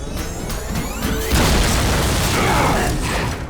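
Loud cartoon explosion in an animated Transformers episode, a sustained blast with crashing debris and mechanical clanks, starting with a sharp burst and rumbling on for several seconds.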